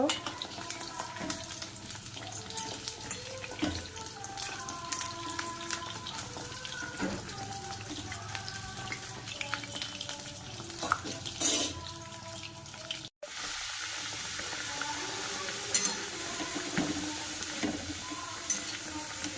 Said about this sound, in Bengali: তো দেখো ভাজা করে নিচ্ছি পিঠাগুলো।